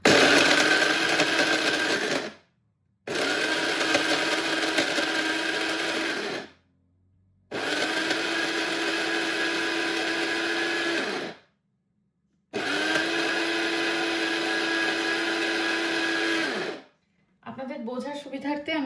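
An electric grinder whirs loudly through roasted spices being ground into powder, running in three long steady bursts separated by short silent pauses, with a brief rattle at the end.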